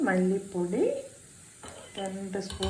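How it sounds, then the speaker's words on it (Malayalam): Grated coconut frying with spice powders in a pan for prawn curry: a steady close sizzle running under a voice that speaks through most of the moment. "അപ്പോൾ തേങ്ങ ഏകദേശം മൂത്ത് വന്നിട്ടുണ്ട്."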